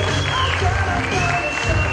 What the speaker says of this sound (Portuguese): Cadê os aplausos da Simone?